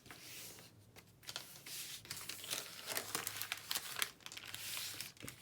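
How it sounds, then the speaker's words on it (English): Paper envelopes are folded in half, giving irregular crinkles, soft creases and rustling bursts close by, with no voices. "We'll fold them in half this way to make the pockets."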